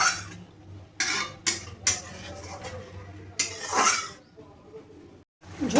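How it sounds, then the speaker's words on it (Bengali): A home-style fish curry in a pot being stirred, with several scraping and clinking bursts of a spoon against the metal pot separated by quieter gaps of low simmering. "এবার আমি ভালো করে নাড়িয়ে নেব।"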